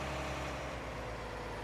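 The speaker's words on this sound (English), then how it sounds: "I've never driven a tractor this big before" Large tractor engine in a farming video game, a continuous low, heavy rumble that holds at a steady level throughout.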